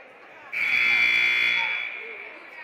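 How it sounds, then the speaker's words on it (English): A loud, sustained electronic buzzer marks the end of a period at a high school varsity basketball game, sounding for about a second and a half before fading, with gym noise in the background. "Buzzer's gone off. Fourth period about to get underway."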